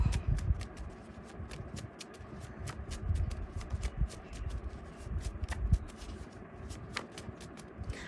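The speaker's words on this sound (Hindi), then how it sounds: "so let's pull some more cards" Tarot cards are shuffled close by in quick, continuous riffling and slapping bursts, with soft sliding as cards are pulled, and no talking over it.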